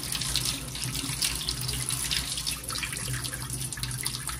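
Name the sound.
rinsing dishes under running tap water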